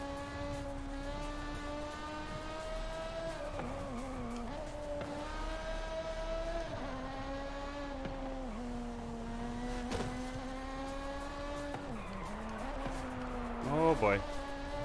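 Race car engine from Forza Horizon 5 revving and holding high rpm, with pitch dipping and climbing through shifts and a short squeal near the end, all at moderate level.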